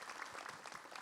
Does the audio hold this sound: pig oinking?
no